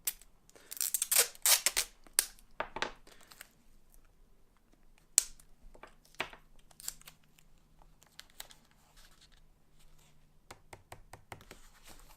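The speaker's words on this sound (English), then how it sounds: "So I'm kind of pulling across the angle, which is usually how I tape paper to the board." Paper is being taped to a board: adhesive tape is pulled and stuck across it with a few sharp ripping bursts at the start, then sparse quiet clicks and rustles.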